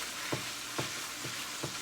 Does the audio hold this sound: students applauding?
no